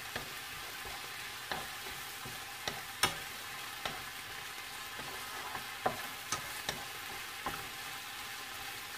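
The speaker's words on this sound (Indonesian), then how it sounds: "Kita aduk sampai merata, teman-teman." Spices and chili frying in a pan for a chayote stir-fry, with a steady sizzle broken by sharp scraping clicks of a spoon stirring at irregular intervals, close and alone.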